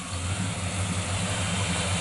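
A 1956 Chevrolet Bel Air two-door hardtop with a 300 horsepower 350 small block, aluminum intake and Edelbrock carburetor idles steadily up close, a smooth, even low rumble throughout.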